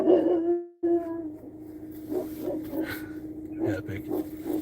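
A dog barks and whimpers in short bursts, fairly close, with a person talking over parts of it.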